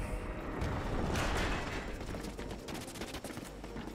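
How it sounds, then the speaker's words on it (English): Rapid bursts of gunfire in the Ratchet and Clank video game crackle steadily for several seconds, with a swelling boom near the start and dense, repeated shots thinning toward the end; no one speaks. "I hear gunfire, but I don't know what from"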